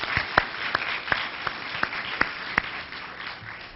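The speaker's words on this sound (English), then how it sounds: "Give yourselves a round of applause one more time." An audience at a Worldhouse gathering at Morehouse College gives a round of applause, with a dense wash of clapping and several sharper individual claps standing out, steady and fairly close for a few seconds.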